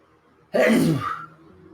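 One sudden, explosive sneeze close by, a sharp burst that trails off into a brief breathy tail, alone against near silence.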